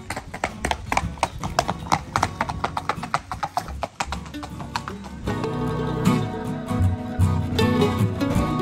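A ridden horse's hooves clip-clop in a quick, regular rhythm, close and clear, before the sound shifts into a denser, continuous clatter with more background noise.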